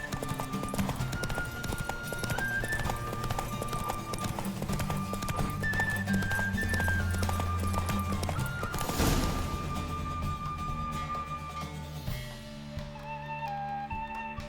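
A horse gallops in a race in The Witcher 3, its rapid hoofbeats drumming steadily under melodic game music, with a brief crash midway and the music thinning near the end.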